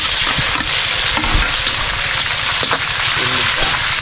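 Garlic and onion fry in a pan with a steady, close sizzle and crackle that runs throughout. Voices talk briefly over it at a few points.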